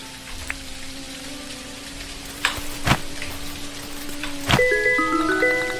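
Steady rain patters down in the Dinkum video game, a constant soft hiss with a few louder drip-like ticks, over a quiet tonal music bed and with no voices.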